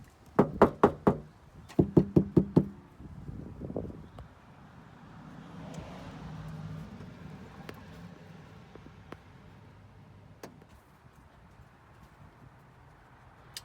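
Knuckles rap on a car door panel treated with sound deadener, two quick clusters of four sharp, solid-sounding knocks close to the microphone, followed by quiet rustling and a few faint isolated taps.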